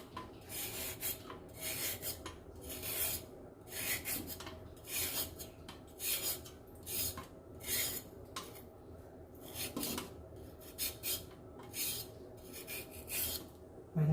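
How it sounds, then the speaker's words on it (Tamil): Potatoes and carrots rubbed against a grater in a quick, even rasping rhythm, each stroke a short scratchy burst, close and fairly quiet with no talking. "நம்ம வந்து உருளைக்கிழங்கு கேரட் ரெண்டையும் நல்லா தோல் எடுத்து நல்லா சீவி வச்சுருக்கோம்"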